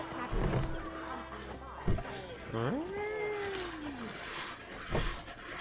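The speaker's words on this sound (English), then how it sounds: "Fucking cat." A cat in The Witcher 3 video game lets out one drawn-out, gliding meow midway, set among thumps and other game sounds, with a voice nearby.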